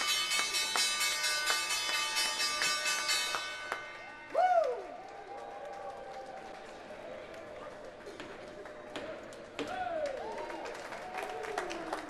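A stock exchange closing bell rings steadily in rapid repetition for several seconds, then stops as a crowd's applause and cheering carry on, with voices talking over the noise.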